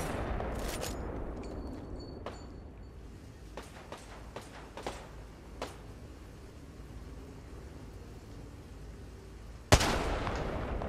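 Kraber sniper rifle fire in a PC game scrim: several sharp, loud shot cracks come early and in scattered bursts, with one heavy blast near the end over a constant background rumble.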